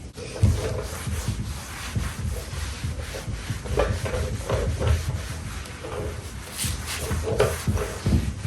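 A rag rubbing blackwash stain across a wooden tabletop, producing a continuous scuffing, swishing friction with repeated back-and-forth strokes, close-up and unbroken by speech.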